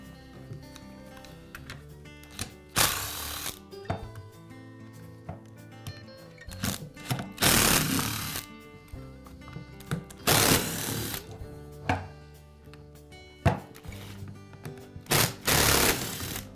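Bursts of a small power driver whirring as screws come out of the side cover on a Milwaukee sander/grinder, several short close spins separated by quiet handling clicks.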